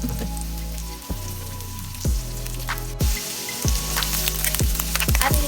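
Garlic, onion and mushroom sautéing in a hot pan for ginisang sayote, a steady close sizzle and crackle with sharp clinks of a utensil against the pan at intervals.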